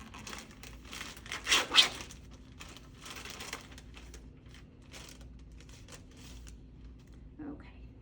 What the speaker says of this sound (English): open my packaging.